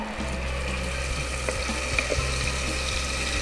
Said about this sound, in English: So you need to fry onion until light golden in color.